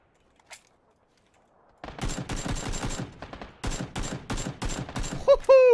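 Rapid automatic gunfire rattles in a battle royale game, with dense bursts of shots in quick succession after a quiet start and brief gaps between volleys, ending with a short electronic sweep.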